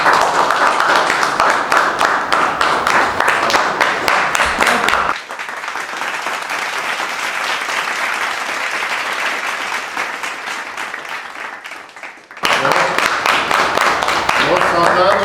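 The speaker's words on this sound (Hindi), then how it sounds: "और एक बार जोरदार तालियां सुनिए।" Loud audience applause after a short Hindi stage play, a dense burst of clapping that drops away midway under a voice, then surges back strongly near the end.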